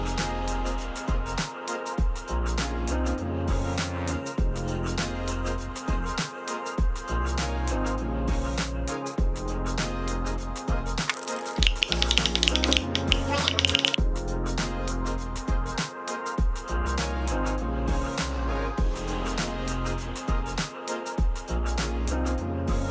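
A 3D printed spring-and-dowel drum playing mechanism striking a drum, repeated mechanical thumps and clacks in a steady rhythmic pattern, loud and close, with no voices.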